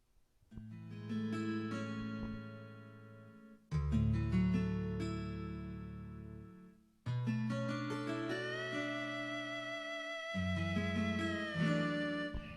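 A keyboard plays a simple song in a slow love-ballad style, with sustained chords and a melody on top. It comes in three phrases with short gaps between them and is heard alone at a moderate level.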